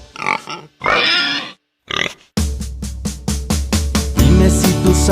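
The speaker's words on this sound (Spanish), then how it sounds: "Dime si tú sabes cómo hace el puerco, vamos a escucharlo tú y yo." A pig grunts and oinks in short bursts, then a rapid run of close, loud squealing oinks follows, repeated in quick rhythm with a musical backing behind.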